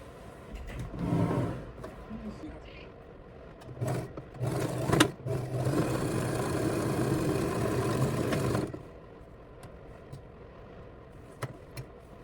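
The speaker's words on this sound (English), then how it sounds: "you're going to fold that in and sew a seam right along here to hide the last of your raw edges" A sewing machine runs a seam along a fabric bag, a few short bursts of stitching followed by one longer steady run, fairly quiet and close, then stopping.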